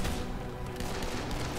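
Rapid gunfire in the Dead Island: Definitive Edition zombie game, a dense continuous fusillade of shots blended with game music and ambience, steady and moderately loud throughout.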